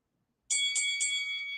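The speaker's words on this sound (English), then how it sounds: "Let's hit the Rocky Bell" A bright ringing bell struck three times in quick succession, each strike blending into a sustained metallic ring that hangs on to the end, loud and alone with no talk.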